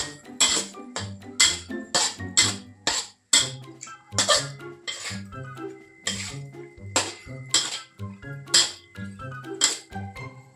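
A utensil stirs spring onions into stir-fried shrimp with salted egg in a pan, making rhythmic, close metallic clanks and scrapes in bursts, with someone talking at times.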